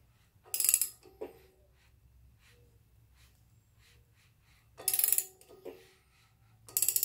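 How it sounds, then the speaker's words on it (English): A 27 mm socket turns the crankshaft of a Datsun L6 engine, producing three short, close bursts of sharp ratchet clicking separated by near silence. "I got a 27 millimeter socket here. Gonna rotate it."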